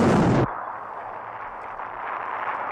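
An exploding tank from 1960s Joe 90 puppet-series stock footage: a loud, dense blast for about half a second, then cutting off into a long, steady rumbling hiss of debris and fire.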